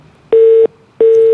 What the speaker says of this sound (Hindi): कॉल ड्रॉप हो गई।